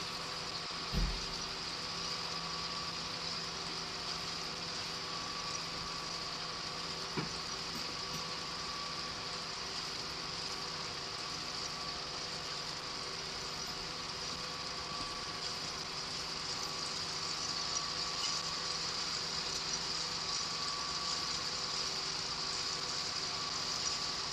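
A loader's engine runs during a sugar beet harvest, a steady, even drone with a faint whine, continuous throughout with one or two small knocks near the start.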